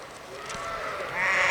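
Sheep bleat at an indoor sheep show, a close, wavering bleat that swells louder toward the end over arena background noise.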